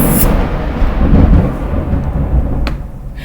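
A heavy thunderstorm rolls with a loud, deep rumble of thunder swelling and fading over a steady wash of pouring rain, close and continuous with no voices.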